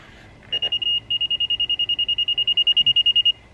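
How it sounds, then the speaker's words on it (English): A DeWalt rotary laser level gives a long run of loud, evenly paced high electronic beeps, about twenty in quick succession, close and clear over faint background noise. "that beeping is so intensely loud, kind of annoying"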